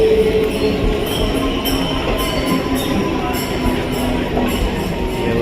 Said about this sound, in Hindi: ये मुंबईर लोकल ट्रेन तो दृश्य